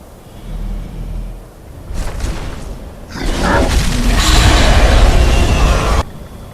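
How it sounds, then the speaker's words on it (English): A dragon's Thu'um shout in Skyrim at the Throat of the World: a rising roar that swells in rumbling waves, then bursts into a loud, sustained blast-like rush before cutting off sharply, with no talking. "Hear my Thum. Feel it in your bones."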